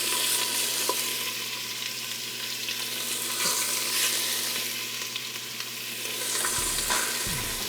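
Pork for carnitas sears in an Instant Pot with a continuous, close, bright sizzle, broken by a few light clunks and shifts of the meat near the end; no voices.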